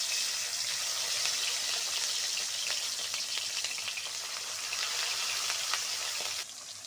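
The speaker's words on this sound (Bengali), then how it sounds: "এবার আমি পুঁটি মাছগুলো তেলের মধ্যে দিয়ে দিচ্ছি" Small puti fish sizzle in hot mustard oil, a dense, loud and continuous hiss that holds steady throughout and dips slightly in the final moment, with no talking.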